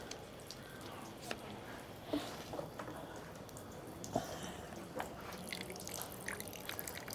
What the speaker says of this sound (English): you're supposed to wash your left hand first, then your right, and then wash your mouth out, and then spit the water back out